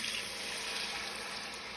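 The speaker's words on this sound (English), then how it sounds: "I'm going to pour it right in the pot here." Beef broth with seasoning streams steadily into a pot of vegetable beef soup, a close, even trickling pour that holds unbroken for the whole short stretch.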